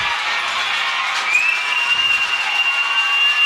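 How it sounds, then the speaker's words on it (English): A lively high school football crowd at the Corbin versus Middlesboro rivalry game, 2005, roars in a steady, dense wash of cheering and applause, broad and sustained with a faint whistle-like tone rising midway. "they got the crowd into it now"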